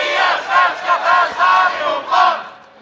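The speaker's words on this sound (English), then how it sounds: "So as you can hear, there's going to be plenty of cheering on for the teams." Spectators at the European Youth Bowling Championships team finals chant and cheer in rhythmic waves, loud, rising and falling five or six times before fading.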